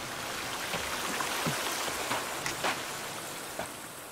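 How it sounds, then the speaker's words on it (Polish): Water flows steadily in The Forest video game, a constant hiss like rain or a stream, with scattered soft taps and drips over it and no talk. "ja słyszałem tylko wodę"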